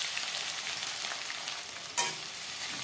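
Chopped onions frying in a pan with hot whole spices for a mutton curry, a steady dense sizzle with stirring scrapes and a brief louder burst near the end.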